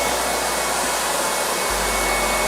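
An airsled roars with a steady, loud blast of air as it floats a 2,000 lb safe, a constant blower-like rush with no pauses and no voices.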